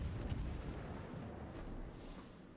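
Warship main-battery gunfire in the naval combat game World of Warships, rumbling booms and distant cannon blasts rolling together into a dense, continuous roar.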